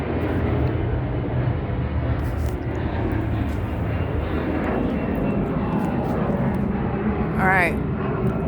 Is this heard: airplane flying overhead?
yes